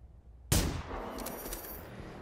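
A single sharp, loud gunshot in the video game Generation Zero cracks out of near silence, then its echo and a noisy tail fade slowly.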